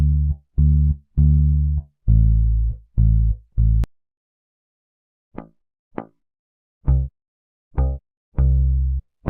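Plucked rock bass guitar notes from Logic Pro for iPad, a run of short deep tones followed by sparser single notes separated by silence, played alone.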